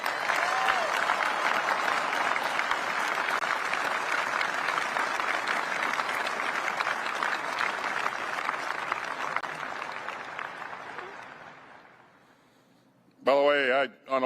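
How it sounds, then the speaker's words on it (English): A large audience at the B-21 stealth bomber unveiling gives sustained loud applause for the workforce, steady for about ten seconds and then fading out, followed by a brief burst of speech. "let's give the entire workforce a round of applause"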